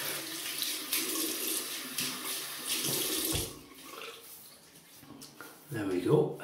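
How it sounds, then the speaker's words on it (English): A tap runs into a sink while someone splashes water onto a face before shaving, a steady close rush with some splashing, fading toward the end, followed by a short burst of louder sloshing. "just going to wet my face."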